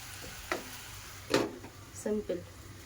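Food stirred in a pot after salt goes in, with a few short scraping strokes and soft clatter over a low steady background, and brief voice-like tones near the end.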